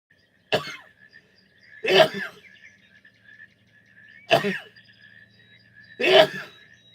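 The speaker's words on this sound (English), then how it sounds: "And I'm going to sneeze." Four sharp sneezes, loud and close, spaced a couple of seconds apart with short breaths between them.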